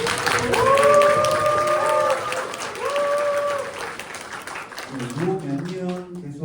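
A concert audience applauds a performer at a salon concert in an arts center hall, a sustained wash of clapping with a sung or played melody over it, then quieter clapping as a voice begins.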